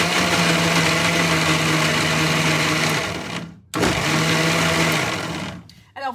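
A kitchen blender whirs loudly and steadily while food is mixed, cuts off briefly, then runs again before stopping; a voice speaks over the motor.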